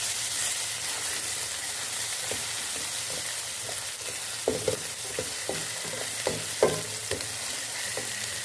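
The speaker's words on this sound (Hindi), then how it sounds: "अब इसमें हम ये लहसुन अदरक कूटा हुआ, हरी मिर्ची हमने साथ में कूट ली थी, वो डाल लेंगे और इसको भी हम फ्राई कर लेंगे।" Crushed garlic, ginger and green chili fry with onions in hot oil for aloo gobi, giving a steady close sizzle with scattered clinks and stirring scrapes toward the end and no talking.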